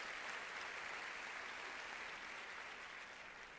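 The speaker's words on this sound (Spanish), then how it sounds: "Da un aplauso, gloria a Dios." A church congregation claps together during a Spanish-language sermon, a dense, steady wash of applause that holds at an even level throughout, with no voices over it.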